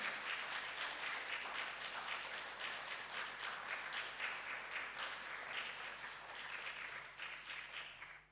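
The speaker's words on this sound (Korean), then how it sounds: "박수 한번 드립시다." An audience applauding in a church gathering, a dense, even wash of many hands clapping together that runs steadily for several seconds before tapering off, heard at a moderate distance.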